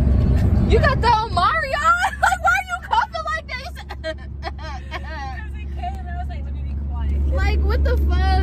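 Steady low road rumble inside a moving car at night, carrying on under animated talk and laughter from passengers, then continuing more quietly as the voices drop off.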